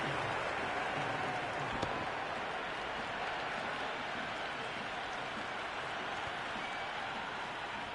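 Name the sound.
crowd cheering at a T20 cricket match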